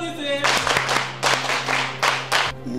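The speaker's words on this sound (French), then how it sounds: "Applaudissez." A small group claps in short irregular bursts, a few sharp rounds separated by brief pauses, over a steady low hum in an indoor room.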